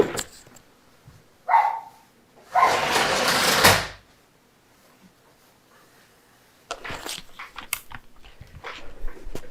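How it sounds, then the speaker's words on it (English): A dog barks a couple of times from another room, the sound muffled and somewhat distant, followed by a window sliding shut and then scattered keyboard typing. "my dogs are barking"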